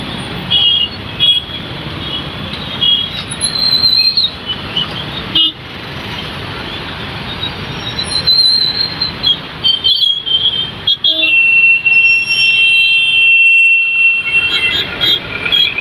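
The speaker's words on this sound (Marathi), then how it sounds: "या ठिकाणी बघा किती ट्रॅफिक झालेला आहे" Road traffic at the Baramati MIDC junction, with busy engine noise and repeated loud horn toots, some long and some short, honking over the steady roar of passing vehicles.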